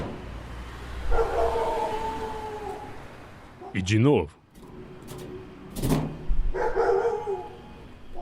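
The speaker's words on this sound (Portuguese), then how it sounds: "Os cachorros começam a latir imediatamente." Dogs bark in short bursts after knocks on a metal gate, a few barks near and loud with a metallic rattle between them, while a person speaks.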